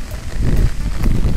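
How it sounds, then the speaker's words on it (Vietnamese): Heavy rain falls steadily and loudly over a ditch where fish are being caught, giving a dense, continuous patter close by with no voices. "Mưa quá mưa."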